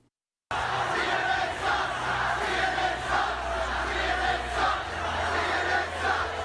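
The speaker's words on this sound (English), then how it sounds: "you can hear there is a chorus of boos and other chants from this Trump crowd here in Tampa, Florida" After a brief silence, a huge crowd at a Trump rally in Tampa, Florida, erupts into a sustained roar of boos and rhythmic chanting, loud and dense, pulsing in waves throughout.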